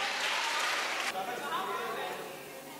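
Audience at a school promotional event clapping for a performer, a dense broadband patter of many hands under a voice, loud at first then thinning after about a second.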